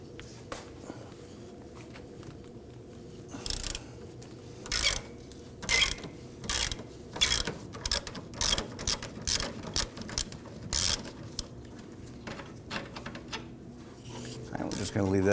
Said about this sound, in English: Using a 15mm socket, we want to go loosen and remove the lower bolt here on the lower